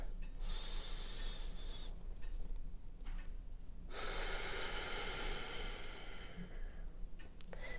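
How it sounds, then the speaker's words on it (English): A slow, deep breath drawn during a rose-breathing meditation exercise, heard as a soft, airy rush that swells for a few seconds, close to the microphone, with no talking. "So deep breath."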